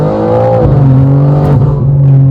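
A BMW G80 M3 Competition xDrive engine revs hard and close, the loud steady drone rising in pitch and then settling into a sustained high-rpm hold.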